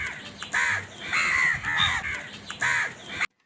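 A crow caws in an animated Tamil moral story, giving several loud, harsh, close caws in quick succession before cutting to silence.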